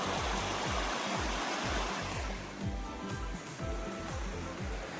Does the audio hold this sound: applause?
no